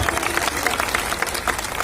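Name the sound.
crowd applauding at a rally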